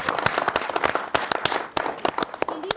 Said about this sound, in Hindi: एक बार जोरदार ताली हो जाए भाई